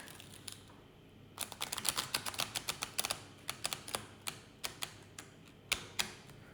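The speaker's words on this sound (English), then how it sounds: "shuffle the deck." A deck of oracle cards is shuffled up close, producing quiet, irregular bursts of crisp clicking and flapping card edges with brief pauses between them.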